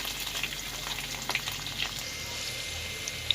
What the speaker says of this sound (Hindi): प्याज को भी अच्छी तरह से फ्राई करेंगे जब तक इसका कलर जो है वो लाइट ब्राउन हो जाए